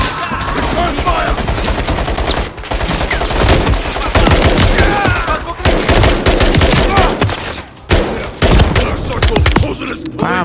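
Combat in Call of Duty: Modern Warfare 3 (2023): loud, near-continuous automatic gunfire with overlapping bursts and heavy impacts, broken by a couple of brief pauses.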